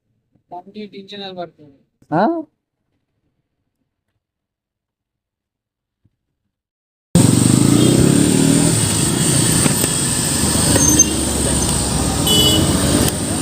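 After a short stretch of talk and several seconds of silence, a Bajaj Pulsar NS400 motorcycle engine fires up and runs steadily at close range, with a slight rev partway through.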